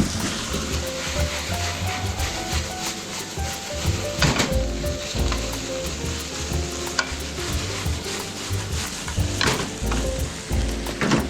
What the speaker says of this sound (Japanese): これを炒めまして、はい、キャベツを入れていき